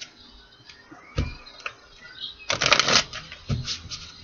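Oracle cards from a message deck being shuffled in a few short bursts, with a louder riffling flurry in the middle, close and alone with no talking.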